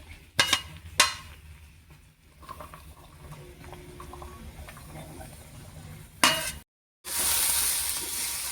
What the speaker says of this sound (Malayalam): ഇതെല്ലാം കൂടി ഒന്നിട്ട് വഴറ്റിയെടുക്കാം